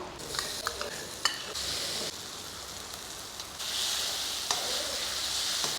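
Onion, tomato and curry leaves sauté in a pan with a constant hissing sizzle, broken by bursts of stirring and scraping that grow louder toward the end, with no voices.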